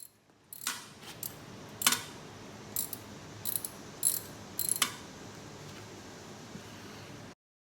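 A hand ratchet tightens the lower coilover mounting bolts on a Mitsubishi 3000GT/Dodge Stealth, giving a handful of short, sharp clicking bursts spaced irregularly over quiet garage background, close to the microphone.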